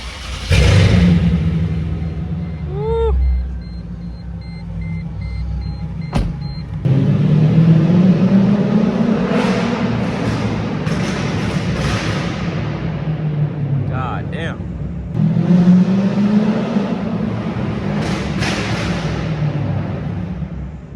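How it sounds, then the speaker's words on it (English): Mercedes C55 AMG with the M113 V8 rumbling along on a test drive, low engine drone rising and easing with acceleration, with wind and road noise and a person talking over parts of it. "Let's take the car for a little test drive."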